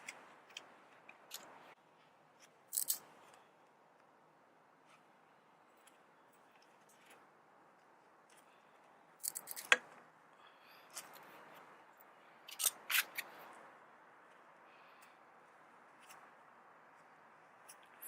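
Scissors snipping the loose end of titanium exhaust header wrap, giving a few sharp, close clicks and short cutting snaps scattered across a quiet stretch, loudest in two brief clusters.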